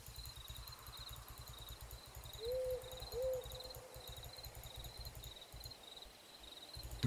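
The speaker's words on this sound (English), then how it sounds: "The owls are louder than her scream." Owls hooting in the video game Doki Doki Longer Roads: two clear hoots at moderate distance over a steady bed of insect-like chirring and a faint high tone, with no talking.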